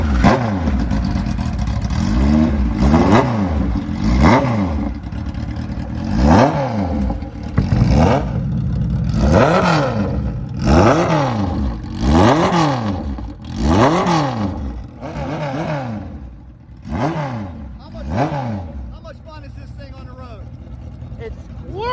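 An old-school, high-compression Kawasaki motorcycle engine at a bike fest revs hard again and again, a rhythmic series of loud sharp throttle blips rising and falling close by, with crowd noise in the background.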